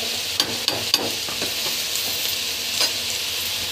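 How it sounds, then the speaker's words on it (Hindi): Chowmein noodles and cabbage are tossed together in a hot sizzling pan for veg Hakka noodles, with a steady fry hiss and a few quick scraping clacks of a spatula early on. "चाउमीन डाल के हमें इसको पत्ता गोभी वगैरह को मिक्स कर लेना है।"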